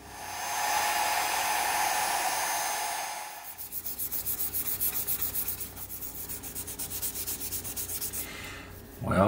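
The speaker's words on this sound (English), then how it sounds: "we'll just go over it after it dries with the 1000 grit." Fine 1000 grit sandpaper rubbed over a model ship's hull, first a steady close hiss, then a quicker run of short rhythmic back-and-forth strokes.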